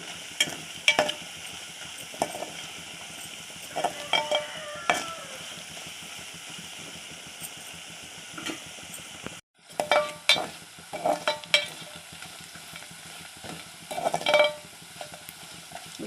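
Masala frying in a pan for a horsegram rasam gives a soft, continuous sizzle, broken by scraping stirs and clinks of a spoon against the pan, with a brief pause midway.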